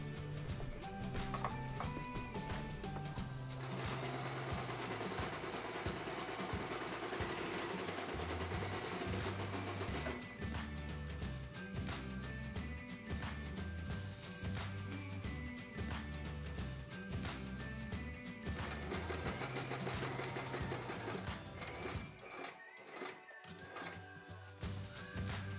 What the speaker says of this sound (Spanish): Esto lo vamos a coser entero por este lateral